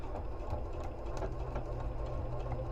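A sewing machine runs steadily at close range, stitching foundation paper-pieced quilt blocks for setting triangles with a short 1.5 stitch length, a continuous whirring hum with no talk over it.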